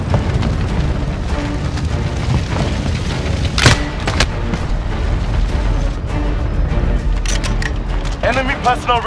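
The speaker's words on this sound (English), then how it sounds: "Enemy cruise missile incoming!" A cruise missile strike in a Modern Warfare free-for-all match brings a dense rumbling barrage of booms and scattered gunfire, with one sharp blast standing out, while game voices talk over it.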